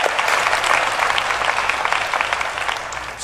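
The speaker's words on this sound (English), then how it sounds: "Let's give him a round of applause too." An audience at the DEFCON 20 conference claps steadily and loudly, a dense continuous wash of applause that holds for several seconds.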